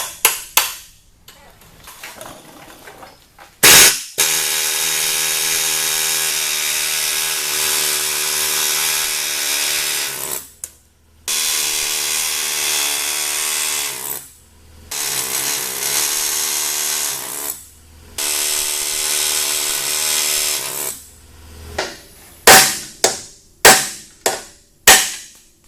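A harsh, loud air hammer or grinder removing rivets from a bracket on a 1986 Chevrolet C10 runs in long sustained bursts, separated by brief pauses, ending with several sharp clanks.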